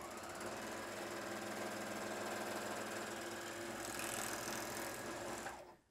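A JUKI MO-1000 serger runs fast through two layers of stretch denim, a loud, steady mechanical whir with rapid stitching chatter that continues evenly and then stops abruptly.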